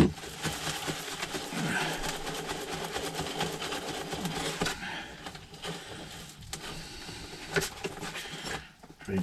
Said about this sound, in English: So all I do is just riddle all the sawdust off.